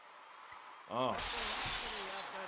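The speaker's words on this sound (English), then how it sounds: "They broke the glass on me twice, dog." Basketball backboard glass shatters in Slam 'N Jam '96 on PlayStation, a sudden bright crash with scattering shards ringing out after a brief rising voice, then a crowd-like roar holding steady.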